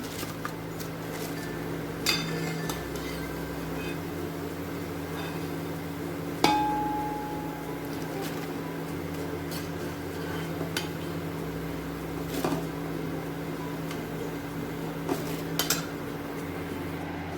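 Dishes and utensils clink a few times at a kitchen stove as fried gulab jamun are lifted out onto a plate, sharp occasional clatters over a steady low hum.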